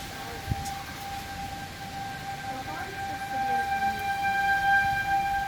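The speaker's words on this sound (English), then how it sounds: "They have the sirens on." A tornado warning siren wails steadily in the distance, a sustained tonal drone that swells slightly louder toward the end, with faint background noise and brief speech.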